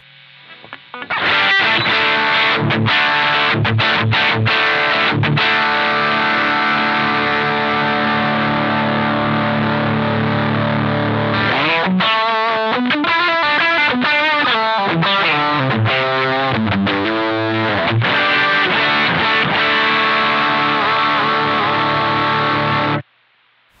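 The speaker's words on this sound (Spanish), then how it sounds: "Vamos a ir con la distorsión, vamos a bajarle un poco al drive" Electric guitar through the distortion channel of a Valeton Dapper Mini multi-effects pedal, with the drive turned down slightly: loud, sustained distorted chords and riffs played alone for about twenty seconds, ending abruptly.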